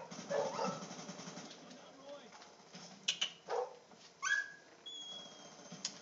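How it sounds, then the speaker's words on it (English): Dogs bark outdoors at a distance, several faint yelps scattered across the stretch beneath the murmur of nearby voices and room noise. "Probably some dogs outside. I hear some barking going on."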